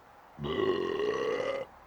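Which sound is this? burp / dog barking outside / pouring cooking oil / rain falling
burp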